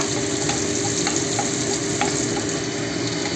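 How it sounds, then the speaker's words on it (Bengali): Onion pieces fry in a little white oil in a wok with a continuous loud sizzle, broken by a few faint clicks from stirring, with no one speaking. "পেঁয়াজের টুকরো আস্তে আস্তে এটা ভাজবে।"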